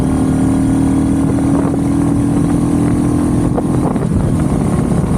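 A Royal Enfield Bullet 350 motorcycle engine roars loud and close while accelerating in third gear, holding a steady, throaty drone throughout with no pauses.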